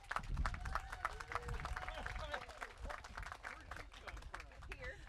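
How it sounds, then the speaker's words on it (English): A crowd at an outdoor highway corridor grand opening applauds a high school band with sustained, fairly distant clapping while voices talk over it. "Could we get a round of applause for them?"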